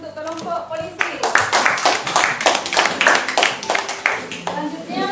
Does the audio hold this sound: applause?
yes